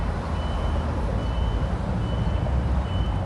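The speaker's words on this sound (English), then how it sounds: "I can still hear the alarm going off." A faint electronic alarm beeps in a slow, regular pattern, about four tones, under a loud, steady rumble of engine noise.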